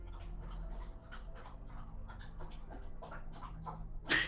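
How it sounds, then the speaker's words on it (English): A dog lapping water noisily from a bowl, a quick rhythmic series of wet licks close by, ending in a louder sudden sound. "That's a dog."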